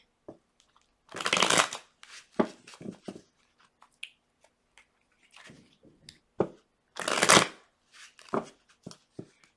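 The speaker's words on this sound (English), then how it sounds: "let's shuffle it 3 times in a row" Tarot cards are shuffled in two bursts of rapid riffling, separated by quieter taps and handling of the deck, close and clear.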